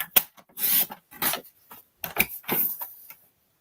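A paper trimmer slices through cardstock during a stamping and card-colouring session, giving several short rasping cuts in bursts with pauses between them, close and fairly clear.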